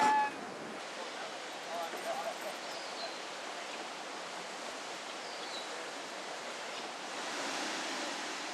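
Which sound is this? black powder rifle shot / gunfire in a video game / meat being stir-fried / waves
waves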